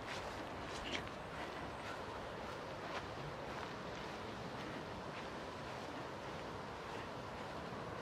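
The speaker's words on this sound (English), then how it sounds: "Right, a little bit windy." Steady outdoor wind rushes and buffets the microphone in a cemetery, a constant broadband roar with a few faint higher rustles and gusts throughout.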